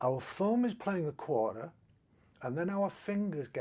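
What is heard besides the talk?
No everyday noises stand out.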